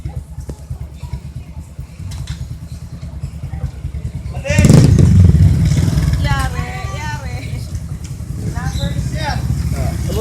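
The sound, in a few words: riding a motorcycle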